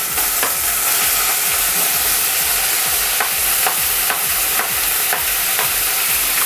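Chopped tomatoes stirred in a pan over ginger garlic paste while cooking a dhaba-style paneer masala, giving a steady close sizzle with repeated spoon scrapes and clacks against the pan throughout, no talking.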